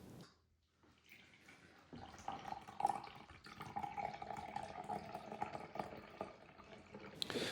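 Guinness Stout poured from a 14-ounce can into a measuring vessel, a steady liquid gush and gurgle after a quiet start, close and fairly soft, ending with a brief louder splash.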